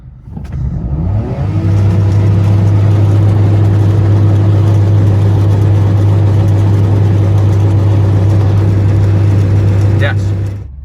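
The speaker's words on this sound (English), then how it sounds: "fourth gear on the head-up display like 120 odd mile an hour at the rev limiter" Citroen C1 engine held against the rev limiter in fourth gear at around 120 mph, a loud steady sustained drone with a constant low hum that rises at the start and cuts off near the end.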